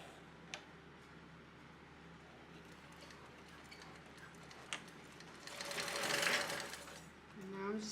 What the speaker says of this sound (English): we're going to top stitch this at an 1/8 of an inch